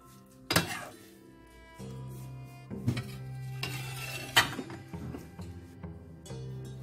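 Plates and cutlery clink and knock as a long zucchini dish with tomato and potatoes is plated in a kitchen: a few sharp close clinks over a low steady hum, with no talking.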